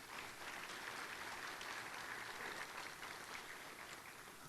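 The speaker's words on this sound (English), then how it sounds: "Let's give them all a big round of applause." Steady applause from an audience at a Chamber of Commerce monthly luncheon, dense continuous clapping of many hands that holds evenly throughout at moderate distance.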